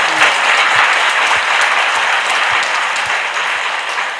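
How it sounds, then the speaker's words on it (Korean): An audience at a Catholic family-ministry retreat lecture gives a loud, sustained round of applause of thanks, with dense clapping from many hands continuing evenly throughout. "주님께 큰 감사의 박수."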